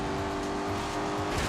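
An Aston Martin V8 Vantage in The Grand Tour Game gives a loud, continuous engine drone with a steady tonal hum, heard up close in-game with no speech.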